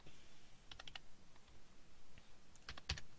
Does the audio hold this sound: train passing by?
no